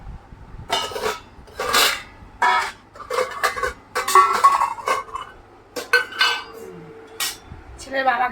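Dishes, pots and cutlery clink and clatter in a home kitchen as a lunch of soybean curry and ghugni is served, with a series of sharp, close metallic knocks and scrapes in irregular bursts.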